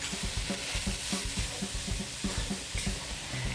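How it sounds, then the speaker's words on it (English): Garlic and onion sizzle loudly in a hot wok of stir fry with capsicum, with steady crackling frying and rhythmic scraping tosses of the ingredients close up, and no talking. "stir fry again, add in my garlic and onion, give that a toss through"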